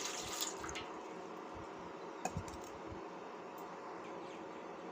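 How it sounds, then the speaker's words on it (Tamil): Water runs and splashes into a pot on a stove at a low level, a steady faint trickle with a couple of small clinks. "தண்ணி ஊற்றிக்கலாம்."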